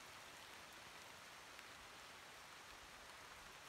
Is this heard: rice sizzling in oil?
no